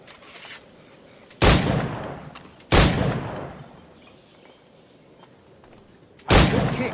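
Three loud, separate firearm gunshots go off in Assassin's Creed 4 Black Flag, each a sharp crack with a ringing tail, spaced a few seconds apart over a quiet ambient bed.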